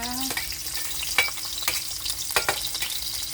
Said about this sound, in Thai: กระทะร้อนน้ำมันลงแล้วก็กระเทียมลง ให้กระเทียมมีกลิ่นหอมนะคะ